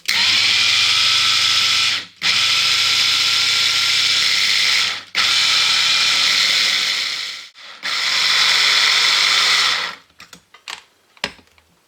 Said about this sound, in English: we'll now get the handheld blender, which sits in top of there, like that. And here we get to the noisy bit.